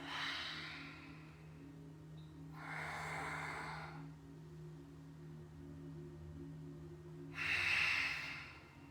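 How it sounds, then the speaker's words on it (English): Deep breaths during a yoga core workout, three long airy inhales and exhales spaced several seconds apart, close and fairly quiet over a low background hum. "Big breath."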